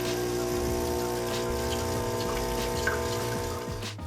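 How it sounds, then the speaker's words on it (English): Vibratory pump of an Ascaso Steel Duo PID espresso machine running as a steady, fairly loud mechanical hum with a constant buzzing drone that holds unchanged for the whole stretch before easing slightly at the end. "I was actually surprised that this pump is actually quieter than the Rancilio Sylvia"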